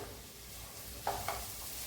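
Green peas being stirred into hot vegetables in a pan, a soft continuous sizzle with a couple of short scraping stirs near the middle, close and fairly quiet, with no talking.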